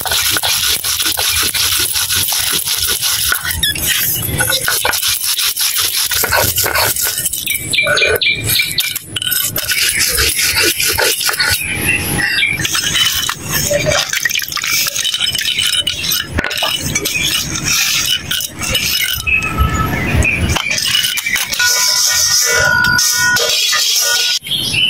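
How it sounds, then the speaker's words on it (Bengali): Cumin seeds ground by hand into a paste on a grinding stone in a village kitchen, a continuous close scraping and rubbing with clinking stone contacts and a steady rhythmic grind throughout. "এখন আমি জিরাটা আলাদা করে বেটে নিতেছি"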